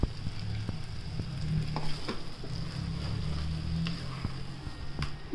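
Tomato paste sizzles and fries in a pan of chicken bhuna masala, a steady close crackle with intermittent spoon stirring and scraping throughout.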